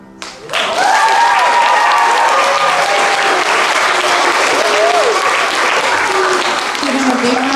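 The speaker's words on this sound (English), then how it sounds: "Give them a big round of applause." Loud, sustained applause from an audience at a wellness center ribbon cutting, a dense wash of clapping that starts abruptly and carries on steadily, with some voices and cheers mixed in.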